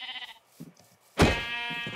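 Minecraft sheep bleating in the video game, a couple of short nasal bleats with a louder, longer bleat at the end, close and clear with no talk.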